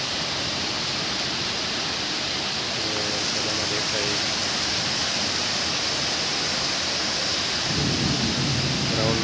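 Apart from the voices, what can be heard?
heavy rain with thunder and wind during a storm in Pune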